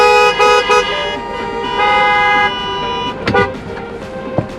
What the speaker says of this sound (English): everybody honk your horns if you're ready to get after it